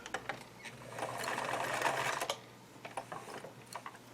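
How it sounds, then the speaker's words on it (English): A sewing machine back stitches a scalloped-edged binding onto fabric, running in a steady close whir for about a second and a half, then breaking into short stop-start bursts. "so I'm going to back stitch a little bit"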